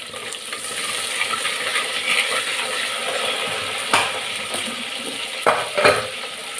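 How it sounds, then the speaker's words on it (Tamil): Onions sauté in a pan for bottle gourd sambar, a steady close sizzle with a few sharp metallic scrapes and clinks as the spoon stirs near the end. "இது நல்லா வெங்காயத்தை வதக்கிது"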